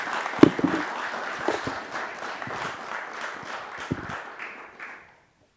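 An audience at a conference applauds with dense, moderately close clapping that carries on for several seconds, then tapers and stops.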